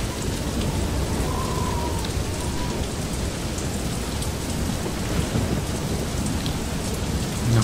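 Thunderstorm with heavy rain in the video game Far: Lone Sails, a dense steady hiss of downpour with low rolling thunder rumbling beneath, continuous and enveloping without speech.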